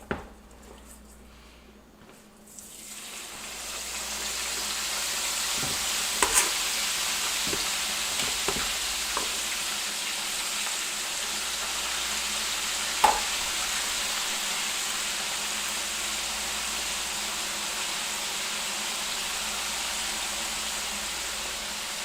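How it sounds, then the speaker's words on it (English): French fries deep frying in oil at about 350 degrees, a steady broadband hiss that starts after a brief quieter moment and holds evenly, with a few faint clicks and pops, no talking. "oil's at about 350 because you really want the fries to be crispy"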